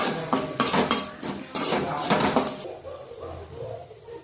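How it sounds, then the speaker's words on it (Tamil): Tomatoes are sautéed in a pan for mutton chukka, with a metal spoon clanking and scraping repeatedly against the pan in quick bursts. The clatter is close and loud, then eases off into quieter stirring. "தக்காளியை நல்லா வதக்கிக்கோங்க ஒரு 2 நிமிஷத்துக்கு தக்காளி நல்லா வதங்கட்டும்"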